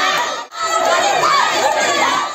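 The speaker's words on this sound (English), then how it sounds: "Big round of applause." A school audience at a dance competition cheers and shouts together, a loud sustained crowd roar with children's voices, briefly dipping before swelling again.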